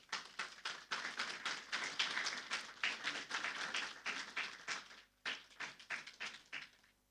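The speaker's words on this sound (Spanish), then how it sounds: "Los recibimos con un fuerte aplauso." A church congregation at a Sunday service applauds the choir with a sparse, uneven patter of claps, fairly quiet and close, pausing briefly before a few more rounds of clapping.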